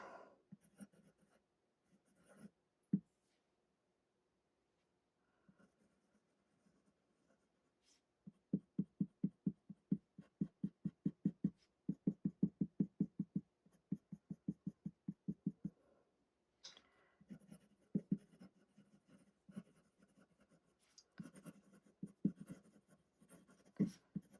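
A Sailor fountain pen writing by hand on paper, close up: soft scratchy strokes that start sparse, then run as quick rhythmic bursts of scribbling with brief pauses, no talking over it.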